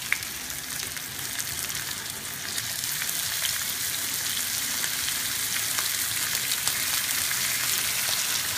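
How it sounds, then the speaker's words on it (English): Chicken crusted in almond and coconut sizzles steadily in hot coconut oil in a pan, a continuous close crackle with no talking. "Nice little sizzle there."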